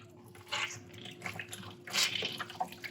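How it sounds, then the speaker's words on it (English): Soft wet squelching and trickling as water is pressed out of soaked bread, in a few faint bursts at close range. "So what I'm doing is I'm pushing out all the water."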